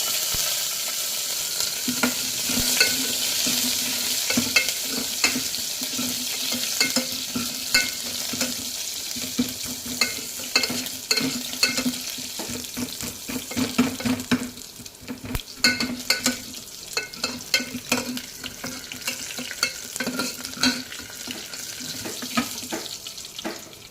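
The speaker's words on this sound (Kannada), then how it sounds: "ಈಗ ಜಜ್ಜಿಟ್ಟಿರುವಂಥ ಬೆಳ್ಳುಳ್ಳಿ ಹಾಕಿ ಕೆಂಪಾಗೋವರೆಗೂ ಉರಿರಿ" Crushed garlic frying in a pan until reddish for dal rasam, with a steady close sizzle and hiss that runs throughout, broken by frequent clinks and scrapes of stirring.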